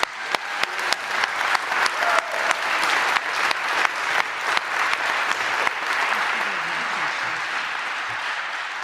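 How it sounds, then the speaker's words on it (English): Audience applause at an annual meeting, many hands clapping at a steady rhythm with distinct claps standing out near the front, gradually thinning toward the end. "round of applause."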